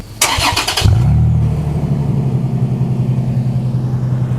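A 2022 Toyota 4Runner fitted with a new Flowmaster exhaust cranks briefly with a quick burst of starter whirring, then catches and settles into a steady, low, throaty idle, close and alone.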